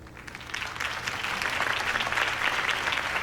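A rally crowd in Batman: The Telltale Series breaks into applause, swelling from moderate to full, sustained clapping with faint cheers over a few seconds.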